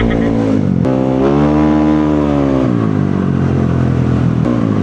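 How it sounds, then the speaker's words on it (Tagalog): An NMAX V1 scooter engine revs loudly nearby, its rough droning pitch rising and falling in a few sweeps. "Parang baka din yung tunog ng motor niya, no?"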